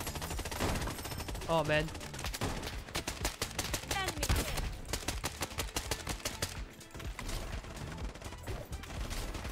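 Gunfire in the mobile shooter Bloodstrike, with dense bursts of rapid automatic shots and distant shooting running throughout, under excited speech from players.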